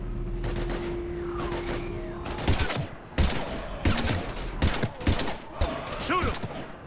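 Heavy gunfire erupts in a Mass Effect 3 combat scene: a string of sharp, close bursts with ringing tails over a low hum, punctuated by several loud separate shots.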